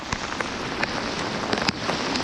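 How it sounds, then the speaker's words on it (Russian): Heavy rain pours down during a fishing trip in a thunderstorm, a dense, loud, continuous hiss with scattered sharper drop impacts close by and no voices. "Ливень идет."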